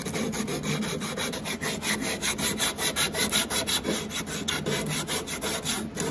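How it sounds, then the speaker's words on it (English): A rasp files a wooden acoustic guitar neck in quick, rhythmic back-and-forth strokes, close and fairly quiet, with no speech. "Just shaping this with that rasp"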